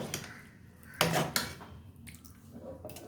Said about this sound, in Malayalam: ഇനിയും കുറച്ച് സാമ്പാർ അങ്ങോട്ട് ഒഴിച്ച് നോക്കാം